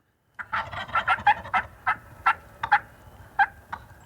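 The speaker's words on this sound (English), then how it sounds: "A gobbler that sticks around and keeps responding to the call." A wild turkey gobbler gobbles repeatedly in rapid rattling bursts, a string of loud, close calls with short pauses between them, heard alone without talk.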